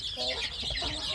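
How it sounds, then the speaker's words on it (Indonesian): Newly hatched native village chicks peep in a brooder box, with high, overlapping chirps running steadily and close by throughout. "ini anak-anak ayam kampung saya baru saja menetas ya"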